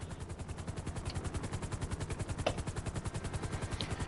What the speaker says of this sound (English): once you see the helicopter land